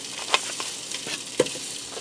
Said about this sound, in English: And I'm going to get my sausage in here. We're going to brown this up.